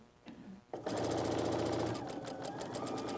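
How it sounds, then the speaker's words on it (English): A sewing machine runs quilt pieces through in assembly-line fashion for mini quilts, starting after a brief quiet lead-in and then humming loud and steady at close range with a rapid rhythmic needle pulse. "you're just going to assembly line sew all 4 of them"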